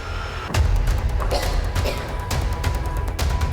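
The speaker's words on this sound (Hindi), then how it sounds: "1 2 3 4 जगह ये बड़े धमाके किए गए हैं।" Explosions from the Israel-Iran war roll through news footage as a dense, rumbling barrage, with sharp booms and cracks landing over a continuous low roar.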